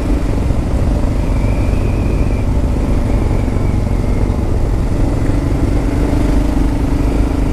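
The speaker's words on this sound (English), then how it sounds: "The bike handles nice." A Kawasaki KLR 650 single-cylinder motorcycle engine while riding on the highway, a loud, steady, close drone with constant wind rush and no speech.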